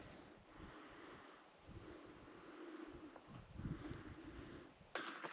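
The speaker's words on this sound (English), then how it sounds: "It's got a nice wind tunnel blowing through it though." Wind gusts through a large rock shelter on a remote desert trail, a steady broad rushing with swells and microphone buffeting, fairly loud and continuous with no talk, ending in a sharper gust.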